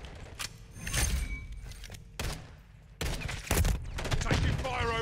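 Bursts of gunfire in a military shooter game's battle on the Terminal map, with several sharp shots and volleys in close succession over busy combat noise, and tagged talk mixed in.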